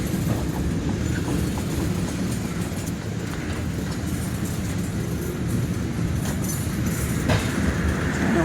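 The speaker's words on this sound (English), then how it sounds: "spirit of Birmingham sticker unit was on the end of this train" A train passes on a railway branch line, a steady loud rumble of wheels and carriages with faint clattering throughout, close by and without voices.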